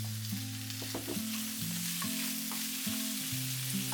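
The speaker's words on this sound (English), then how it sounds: "When it's hot, put the chopped garlic. Stir for 15 seconds. Then add the ribs." Pork ribs sizzle in hot oil with chopped garlic while being stirred, a steady faint crackle throughout with soft scraping strokes and no talking.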